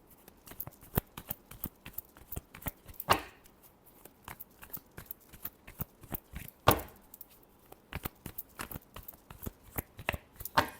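Tarot cards are shuffled by hand in quick riffling bursts, a close series of sharp papery flicks and taps at irregular intervals with a few louder snaps, quiet and with no voice.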